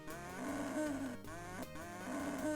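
Cows in a DOS adventure game moo in two long, low, loud calls back to back, with no one speaking over them.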